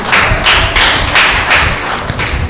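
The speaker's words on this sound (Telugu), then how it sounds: "ఒకసారి ఉజ్జీవంగా ఉన్నవారు, సంతోషంగా ఉన్నవారు గట్టిగా చప్పట్లు కొట్టి దేవుని నామాన్ని మహిమ పరుద్దాం" A church congregation at a Telugu Christian service claps hands loudly and continuously, dense crowd applause with rhythmic bursts swelling and easing, close and filling the room, no talk.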